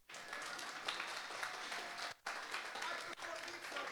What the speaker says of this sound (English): I'd like to give them a round of applause, please